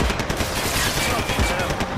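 Gunfire in the shooter game Max Payne 3, a dense, continuous burst of shots filling the whole stretch with loud, busy crackle and rumble, with game sounds layered together.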